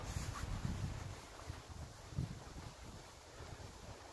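Wind gusts buffet the microphone at an outdoor archery range, a soft, steady rumble that swells and fades in low-pitched puffs without other clear sounds.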